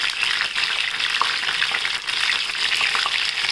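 Brinjal frying in hot oil, giving a dense, continuous sizzle that stays loud and close from start to finish, with no speech over it.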